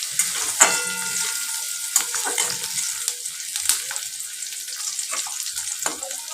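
Chopped onion fries in a pan for an okra dish, giving a light crackling sizzle broken by occasional sharp clinks and scrapes of stirring. It sounds close and moderately loud.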